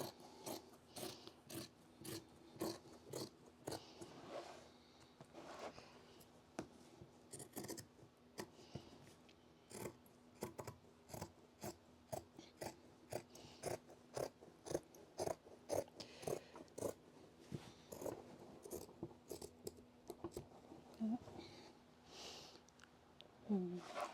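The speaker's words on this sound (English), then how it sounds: "These are fabric scissors. I'm just going to go through and around and cut the fabric." Fabric scissors slice through and around printed cloth, giving a steady run of sharp, close snips and blade clicks with brief pauses, and a low background hum runs beneath.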